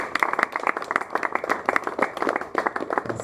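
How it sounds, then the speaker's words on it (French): A church congregation claps together in a quick, steady rhythm, close and fairly loud, with a few faint voices mixed in. "Acclamons pour la parole."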